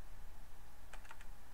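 A short burst of computer keyboard typing as a terminal command is entered, several quick close clicks in a cluster over a quiet room background.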